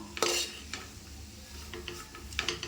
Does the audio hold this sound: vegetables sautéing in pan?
yes